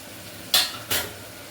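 Ginger garlic paste stirred into sautéing potatoes in a pan, giving two short scraping clatters of a spoon against the pan over a faint steady sizzle.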